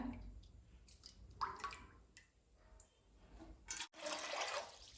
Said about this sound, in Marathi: आता आपल्याला ह्याच्यामध्ये पण मोजूनच या ग्लासाने पाणी ओतायचंय।